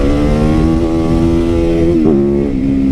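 A gas motorcycle revs hard while pulling a wheelie, its loud, steady engine drone holding up close with a brief dip and surge partway through.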